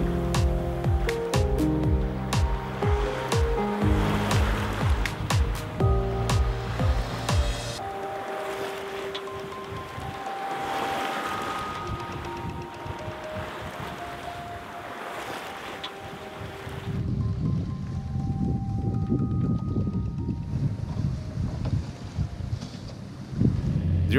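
A Jeanneau Sun Odyssey 42 DS sailboat under way at sea, with steady wind buffeting and rushing water along the hull, plus clanking and rigging noises throughout.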